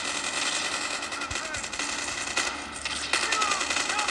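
Gunfire in the mobile shooter game Call of Duty Mobile comes as short bursts of shots spread through the clip, under a voice talking.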